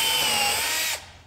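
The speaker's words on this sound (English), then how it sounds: "drill some pilot holes, like I said," A power drill drilling pilot holes whines steadily at high speed for about a second, then stops abruptly.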